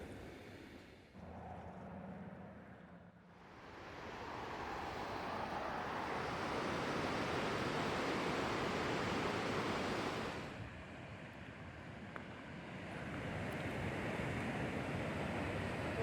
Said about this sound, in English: the sound of the crashing waves were mesmerizing